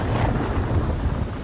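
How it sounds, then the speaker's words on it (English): A thunderstorm in the horror game The Dark Pictures: Man of Medan, heard as a dense, loud, continuous rumble of thunder and storm noise with no voices over it. "The storm caught them, bruh."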